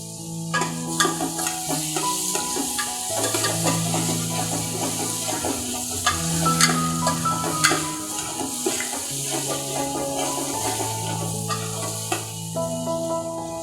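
Green chillies sizzle in a hot pan for sev tameta curry, a steady frying hiss with occasional stirring clinks and scrapes, set against soft background music.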